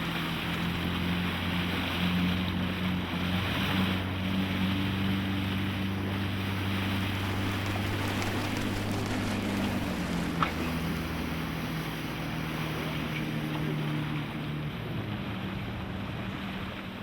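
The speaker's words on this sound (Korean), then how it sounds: "바다 한가운데로 나가자 풍랑과 안개가 더욱 심해지기 시작했다." Rough seas in heavy wind and fog off the Chukotka Peninsula batter a rocking boat: a constant roar of wind and surf over a low, steady droning hum, loud and unbroken throughout.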